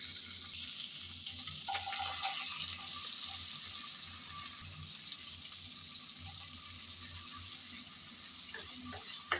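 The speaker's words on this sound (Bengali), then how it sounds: "পেঁয়াজ কুচি দিয়ে নেড়ে চেড়ে ব্রাউন কালার করে ভেজে নেব।" Chopped onion sizzles loudly in leftover shrimp-frying oil, a dense continuous hiss with occasional scraping from stirring and no talking.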